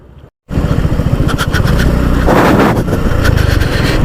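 A motorcycle engine starts up after a brief silence and runs loud and close, its throbbing idle rising in a short rev before settling back into a steady rumble.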